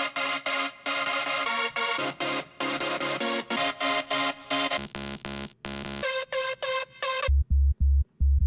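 A classic detuned saw synth, hardstyle-style, plays a dubstep intro chord progression in loud, rhythmically chopped stabs, then drops out to leave a few short, deep bass pulses at the end.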